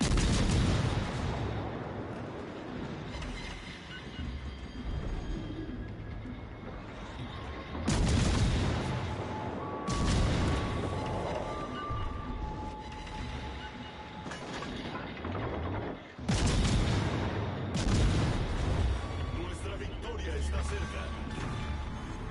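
A battleship fires HE shells in World of Warships Legends: several heavy, booming salvos hit at irregular intervals, each followed by a long rolling rumble under steady background game noise.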